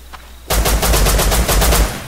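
A sudden, loud burst of rapid automatic gunfire in a multiplayer shooter game begins after a brief quiet moment and continues as a steady, pulsing stream of close shots.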